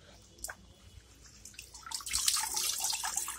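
Water is poured into an aquarium setup with plants, beginning with a few scattered drips and then swelling into a steady splashing gush that keeps building toward the end.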